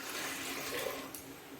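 Water is poured into a pressure cooker while making Afghan shami kabab, a steady splashing, trickling stream that stays close and fairly soft throughout the short pour with no talking.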